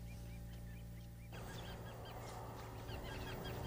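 Resident Canada geese honk at the Blackwater National Wildlife Refuge, a repeated series of nasal calls over a steady outdoor hum that thickens partway through as more birds join in.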